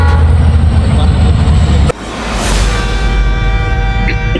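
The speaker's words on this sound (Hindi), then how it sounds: "भाई जल्दी कर भाई, ट्रेन आ रही है।" A train draws near with a loud, steady rumble and rising roar, a sharp break partway through, then continuing heavy rail noise close by.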